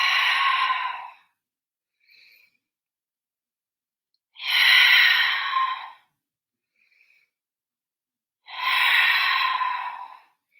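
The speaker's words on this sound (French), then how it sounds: "Active bien ta respiration." Heavy breaths during a Pilates side exercise come as three long, loud, forceful exhales spaced a few seconds apart, with only faint quiet inhales in the silences between them.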